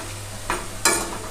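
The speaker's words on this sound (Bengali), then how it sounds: "গ্যাসের ফ্লেমটা বেশি হাই রাখবে না, মিডিয়াম রেখে একটু বড়াটা ভালো করে ভেজে নিতে হবে।" Masoor lentil fritters (dal bora) frying in oil over a medium flame: a soft steady sizzle with two brief stirring scrapes close by, and no voices.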